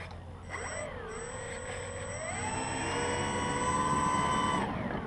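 An FT Guinea Pig foam model airplane with bigger wheels and steerable nose gear taxis on a rough surface, its electric motor whining and rising in pitch as it speeds up, fairly faint and heard from a distance.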